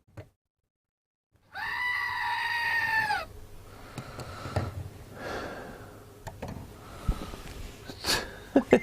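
A loud goat-bleat sound effect plays as one long wavering cry, followed by scattered softer bleats, snorts and clatter.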